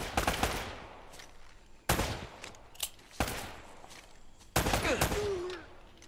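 Gunfire in the video game Uncharted: Drake's Fortune, four loud sharp bursts of shots spaced a second or so apart, each trailing off into reverberant echo.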